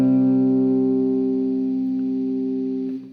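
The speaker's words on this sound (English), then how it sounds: "just to hear the distortion" A sustained, buzzing distorted guitar tone from an Eventide H90 effects pedal rings steadily with a slight echo, then fades out abruptly at the end.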